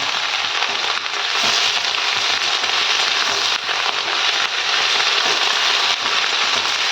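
Chopped onion stalks sizzle loudly in a hot pan, a dense continuous crackling hiss that stays steady throughout with no voices.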